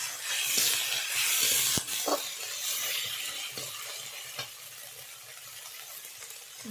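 Spice paste sizzling and frying steadily in a pan for an aloo dum curry, with occasional stirring scrapes and clinks over a constant hiss, close and moderately loud, no talking.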